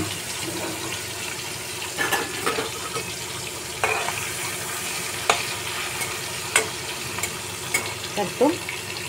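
Washed shrimp coated in salt and turmeric lightly frying in oil, a continuous sizzle with repeated stirring scrapes and clinks of a utensil against the pan, fairly close and loud.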